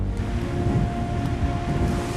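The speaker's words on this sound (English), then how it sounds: "The waves are fierce tonight." Fierce ocean waves surge at Australian tide pools at night, a loud, continuous rumbling wash of surf and wind noise with swells rising and falling, with no voices.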